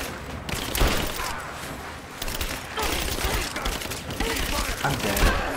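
Gunfire in Rise of the Tomb Raider rattles steadily in dense, fairly loud bursts, shots overlapping one another throughout, with voices talking underneath.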